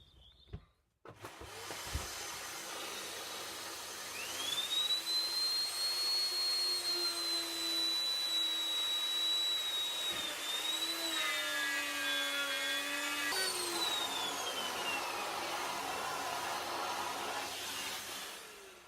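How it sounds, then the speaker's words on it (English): A handheld wood router cutting 10mm-deep slots into 18mm plywood, a steady high-pitched motor whine that spins up, holds for over ten seconds, then dips and shifts pitch as the bit works, loud and close. "So we've got the two sides marked out now, so a bit of routing now. Take 10mm out of there. This is 18mm ply"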